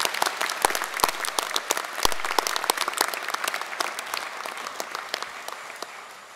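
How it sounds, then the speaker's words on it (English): Audience applauding at a university graduation ceremony in Manawatū, a steady mass of dense claps that slowly fades toward the end. "Can we give him another round of applause, please?"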